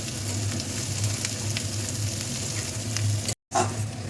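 Onion, whole spices and char magaj melon seeds fry in a pan with a steady, close, dense sizzle that runs without a break for several seconds, cut by a brief gap near the end before resuming.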